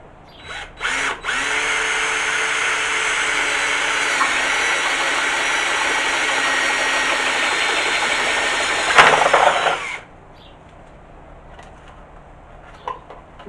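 A power drill with the hammer action switched off bores a 22mm hole through a plastic box for 20mm conduit, whining steadily for about nine seconds, then a short burst as the bit breaks through before it stops, close and loud.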